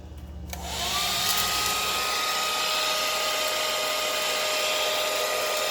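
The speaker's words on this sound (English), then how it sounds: "Then we're going to take our heat gun" A heat gun switches on and blows hot air over a soap mold, a steady, loud, close whooshing roar that holds evenly after starting.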